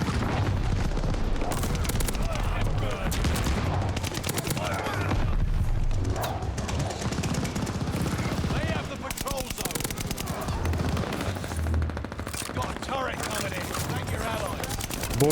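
Continuous STG44 assault rifle fire in Call of Duty Vanguard multiplayer, loud rapid automatic bursts with booming explosions, under a player's excited voice throughout.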